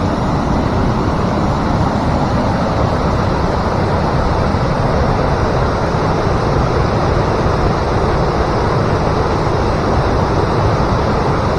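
Water flows in a Highlands nature reserve, a steady, close rushing wash that continues unbroken and evenly loud throughout, with no voices.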